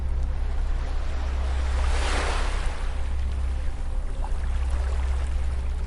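Gentle beach waves wash onto the shore, a soft continuous surf with one broader swell rising and fading, under a low steady wind rumble.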